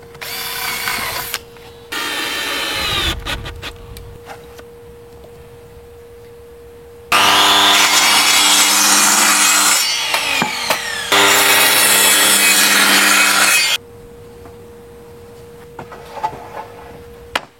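Power saw cutting wooden deck boards to length for an outdoor terrace, two loud bursts of rasping cutting with a steady hum and quieter tool handling between them, no talk.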